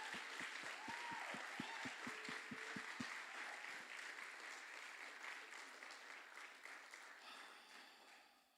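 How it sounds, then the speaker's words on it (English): Applause from an audience, with sharp claps standing out at first, then settling into a steady, dense wash of clapping that slowly fades. "can we just give some applause to the people that just said yes to Jesus?"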